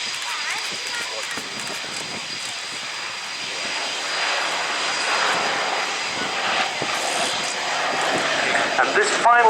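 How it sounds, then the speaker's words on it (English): Late-model Boeing B-17G bomber at an air show, its piston engines droning loud and steady as it passes, a broad roaring wash that swells slightly toward the end, with an announcer talking over it. "This is a late model B-17G."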